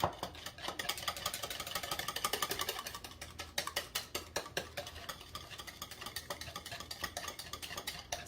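Fast, steady whisking of creamy salad dressing in a bowl, a continuous rapid clicking scrape with regular strokes, close and moderately loud with no talk.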